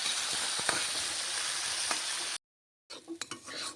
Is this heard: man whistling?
no